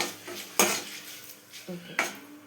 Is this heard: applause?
no